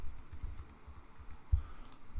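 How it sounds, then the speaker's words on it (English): Typing a new password on a computer keyboard, with a rapid run of soft, close key taps and one sharper stroke near the end. "open up every user account and type in a new password. Type in the same password"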